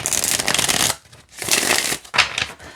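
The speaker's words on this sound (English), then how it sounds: "And it shuffles great." A tarot card deck is shuffled close up in three crisp riffling bursts separated by brief pauses, with no talking.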